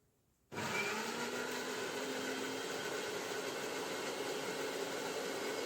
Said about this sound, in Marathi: आता एका मिक्सरच्या भांड्यामध्ये हे सगळे टोमॅटो घालते आणि मिक्सरमधून याची अगदी बारीक अशी प्युरी करून घ्यायची आपल्याला